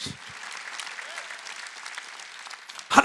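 A church congregation at a Wednesday worship service claps together, a moderate, steady patter of hands under a preacher's continuing voice, ending with a louder burst as speech resumes.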